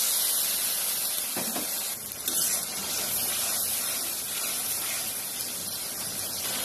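A little water poured into a pan of frying spices for a curry, producing a loud, steady hissing sizzle that continues throughout with a brief splash of bubbling midway.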